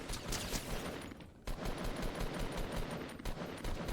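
Dense automatic gunfire from a Fortnite match, loud and nearly continuous with rapid bursts and a brief pause midway.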